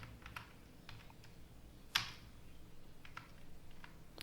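Quiet, scattered keystrokes on a computer keyboard as a search term is typed in, with one sharper key hit near the middle and light irregular taps throughout.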